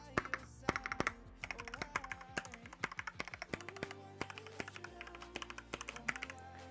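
Rapid typing on a gasket-mounted Marvo Monka Storm KG991W wireless mechanical keyboard, close up, with deep thocky keystrokes in quick uneven bursts and no talking.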